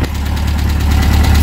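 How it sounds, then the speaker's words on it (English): The engine of a Reliant SuperVan, a small three-wheeled van, runs steadily close to the mic. It gives a loud, even, throbbing drone with a quick regular knock and no voices. "As soon as you rev it up,"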